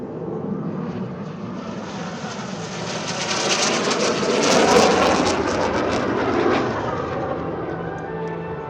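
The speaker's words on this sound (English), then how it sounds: "the T-38, the two aircraft you see in front of you" Two T-38 jet trainers fly past at an outdoor California airshow, a broad, distant jet roar that swells to a peak midway and then slowly fades.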